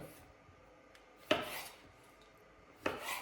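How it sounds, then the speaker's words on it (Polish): A knife dices pickled cucumbers on a board: two sharp, close chopping strikes about a second and a half apart, each with a short scraping tail, over quiet kitchen background. "i ogóreczki kroję w drobną kosteczkę"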